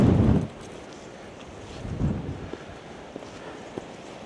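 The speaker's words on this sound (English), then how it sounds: "It is windy up here." Gusty wind buffets the microphone on a seaside clifftop coastal path near Filey, Yorkshire, with a loud rushing burst at first that drops to a low, steady blustery rumble.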